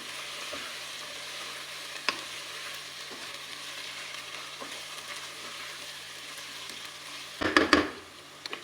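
Potatoes and fenugreek leaves frying in a pan, a soft steady sizzle running throughout, close by, with a louder burst of stirring and scraping near the end.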